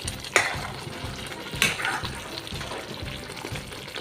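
Egg kofta curry gravy cooking in oil is stirred in a pan, giving a close, continuous bubbling sizzle. Two sharper scraping clatters from the spoon stand out above the simmer.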